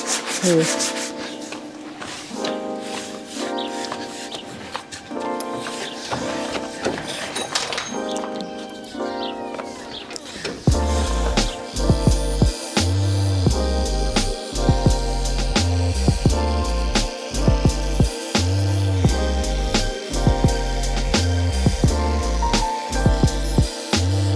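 Sandpaper is rubbed over car window surfaces, with repeated rasping strokes that grow louder and more rhythmic partway through.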